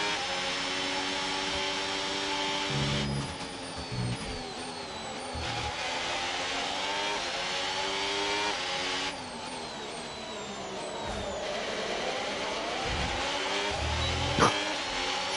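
Ferrari Formula 1 car engine in the F1 26 racing game, a loud sustained high-pitched whine that rises and falls with shifts and revving throughout, close and continuous with no talk.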